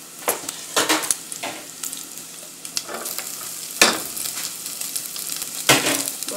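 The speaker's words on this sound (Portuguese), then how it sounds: "Olha o bacon sendo fritinho, olha." Bacon and onion frying in a home kitchen pan, a continuous soft sizzle broken by several sharp clattering stirs of the utensil against the pan, close and fairly quiet with no talking.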